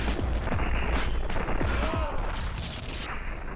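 A grenade goes off amid a Max Payne 2 firefight, heavy blasts and gunfire crashing loudly before the noise thins and fades.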